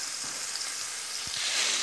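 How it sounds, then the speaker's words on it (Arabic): Onion pieces hit a hot pan and sizzle in a broad, steady hiss that swells slightly toward the end, with a couple of soft knocks in between. "دوك نزيد بصلة واحد حبة بصل"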